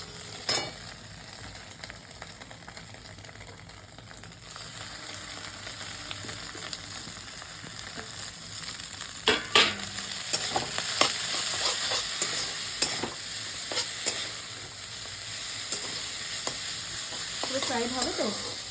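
Maggi noodles fry in a pan with a continuous sizzle, broken by scraping stirs and occasional louder clatters of a spatula, growing busier in the second half.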